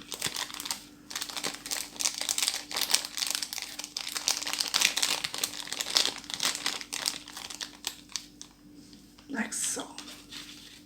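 Plastic pot top from a Kracie Poppin Cookin donut candy kit being folded over, giving a run of close crinkling and crackling with soft squishy handling noises that thin out near the end.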